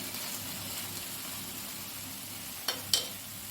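An uncovered pan of okra and egg stir-fry gives a steady soft sizzle, then two short clinks of a spoon stirring near the end.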